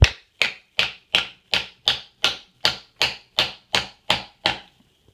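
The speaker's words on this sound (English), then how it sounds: "then I'm going to take my big hammer" Big hammer strikes a coin ring seated on old Schedule 40 PVC pipe, forcing it down: a steady run of about thirteen sharp, bright metallic taps, evenly spaced and close, each ringing briefly before the next.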